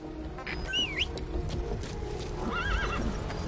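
A horse in the Metal Gear Solid V video game neighs twice, shrill wavering whinnies over a busy game soundscape with hoof clip-clops and background noise.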